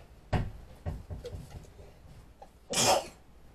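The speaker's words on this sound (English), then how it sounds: "I'm going to sneeze really hard" A single sharp, forceful sneeze bursts out near the end, preceded by a few short breathy sounds and small noises.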